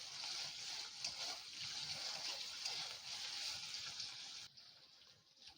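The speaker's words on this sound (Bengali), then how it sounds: "টমেটোটাও ভালো করে নেড়ে নিচ্ছি।" Chopped tomatoes frying in a pan with ginger and garlic, a steady close sizzle and hiss with faint stirring scrapes, continuous for about four and a half seconds before quieting.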